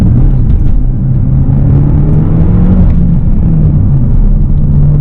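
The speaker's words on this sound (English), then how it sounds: "So now I'm going to drop it down to 4th gear, do a little pull." Rare six-speed manual BMW M6 Competition coupe pulling hard in fourth gear, a loud steady engine drone rising slowly in pitch, heard close from inside the car with no talking.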